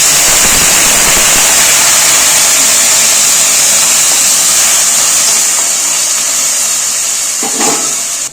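Water splashed into a hot pan of frying vegetables with green chilli gives a loud, steady hiss and sizzle close by that fades only slightly, with a short clatter near the end.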